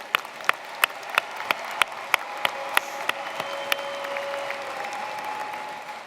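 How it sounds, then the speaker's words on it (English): An audience at a graduation ceremony claps: sharp, evenly spaced claps ring out at first, then blend into a steady, moderately loud wash of applause heard from a distance. "Let's give them a round of applause."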